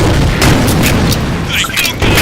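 A grenade goes off in a video game, a short dense boom and rumble that fills the moment, with gunfire-like bursts and a voice faintly underneath.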